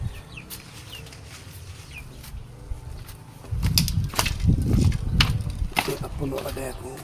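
Chickens on a small farm cluck and chatter while being fed, with scattered calls near and far. People talk over a rising bed of background noise.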